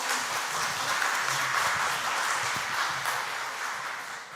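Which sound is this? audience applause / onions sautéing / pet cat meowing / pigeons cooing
audience applause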